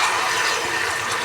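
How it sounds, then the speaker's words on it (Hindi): A little water poured into a cooking pan with garlic and ginger gives a steady, loud hissing rush that holds evenly throughout, with no talk over it. "अभी इसमें हल्का सा पानी ऐड करेंगे।"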